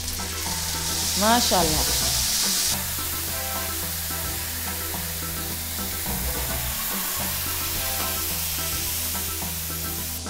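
Food sizzles and crackles loudly in olive oil in a frying pan on a gas stove, a steady close frying hiss with stirring, under brief speech.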